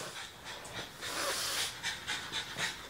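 A small, almost two-year-old dog pants close by in rapid, rhythmic breaths that rise and fall in bursts, with faint whimpery breathing and no speech.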